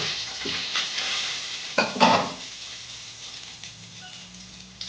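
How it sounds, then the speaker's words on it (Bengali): Bay leaf and a five-spice panch phoron tempering with sliced dry red chilli sizzle in hot oil for a vegetable dal, with a steady crackle and a couple of louder clattering stirs of a spoon against the pan, close up. "ফোড়ন দিলাম। দিয়ে একটু নেড়ে নেব। তারপর আমি তেজপাতাটা দিয়ে দিলাম।"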